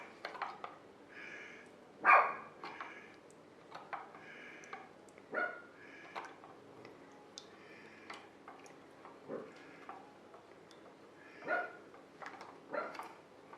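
A small, nervous dog barking indoors, scattered sharp yips and barks at irregular intervals, faint and somewhat distant, the loudest bark early on and quieter ones spread through the rest.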